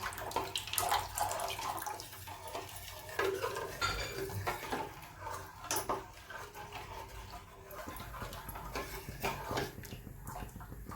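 A ladle stirs milk steadily in a pot while basundi made with carrots cooks, giving continuous scraping and clinking of metal under liquid sloshing, moderately loud and close with no talk.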